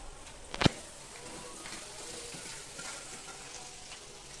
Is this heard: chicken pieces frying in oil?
yes